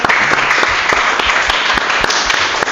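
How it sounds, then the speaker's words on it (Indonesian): A classroom group claps for presenting group 2, a brief burst of dense, even applause close by. "Jadi beri aplaus dulu untuk kelompok 2."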